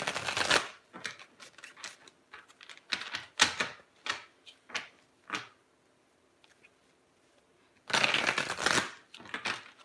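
Tarot cards being shuffled up close, bursts of quick riffling flutter and soft slaps, with a quiet pause between two louder shuffles.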